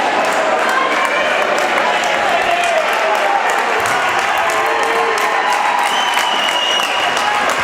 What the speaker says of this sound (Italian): Gli applausi del Palabianchini.